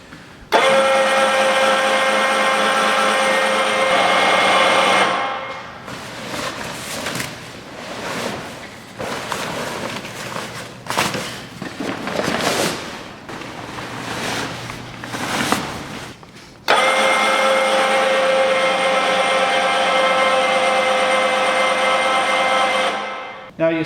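A Flagstaff 228 tent trailer's roof being cranked down, a steady loud mechanical whir running for several seconds, pausing amid clunks and rustling, then resuming as a long continuous drone.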